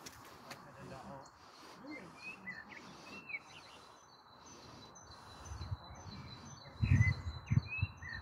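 A blackbird sings from a tree alongside a fieldfare, thin chirps and warbling phrases coming faint and distant over quiet ambience, with some louder low rustling or handling bumps near the end.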